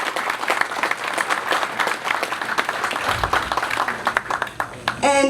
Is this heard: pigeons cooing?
no